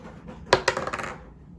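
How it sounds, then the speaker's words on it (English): Dice rolled during a tabletop game: a sharp clatter as they hit the surface, followed by a quick run of smaller bouncing clicks that fade out within a second. "we're going to roll a dice"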